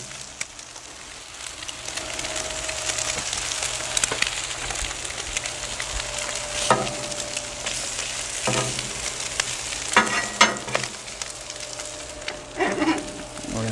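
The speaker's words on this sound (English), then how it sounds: "Get our eggs flipped over. Let those cook on this side a little bit." Eggs frying on a Blackstone griddle, a continuous close sizzle and crackle with occasional scraping taps of a spatula on the hot flat-top surface throughout.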